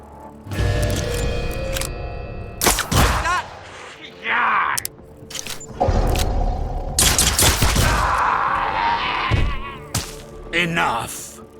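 Repeated gunfire bursts from a squad firing on robot enemies in Mutant Year Zero, sharp loud cracks and volleys separated by short pauses, with game sound effects and narration around them.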